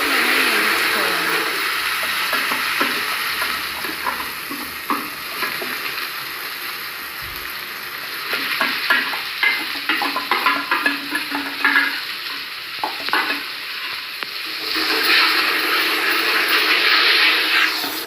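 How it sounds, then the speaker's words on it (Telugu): Masala paste of onion, ginger and garlic sizzles and fries in a pan for a mushroom and flat bean curry, with continuous crackling and bursts of scraping stirring, loud and close. "తర్వాత మనం రెడీ చేసుకున్న పేస్ట్ని బాగా వేసుకోవాలి. పచ్చి వాసన పోయేంత వరకు మనం వేయించుకోవాలి."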